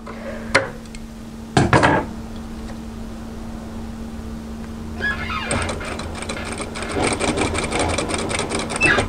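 A sewing machine stitches the seam of a peplum camisole top, with a few sharp clicks and handling knocks first, then a fast continuous rattling whir building up close by.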